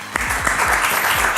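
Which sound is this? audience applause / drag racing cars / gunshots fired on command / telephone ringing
audience applause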